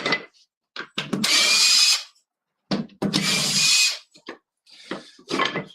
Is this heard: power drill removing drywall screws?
yes